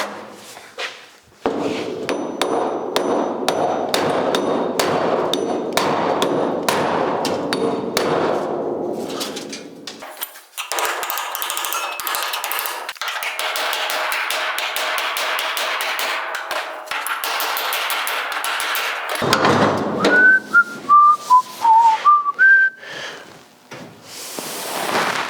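A hammer strikes the metal trunk lid of a 1956 Chrysler 300 in rapid, loud, ringing blows, fast and dense at first, then in a few spaced, clanging hits.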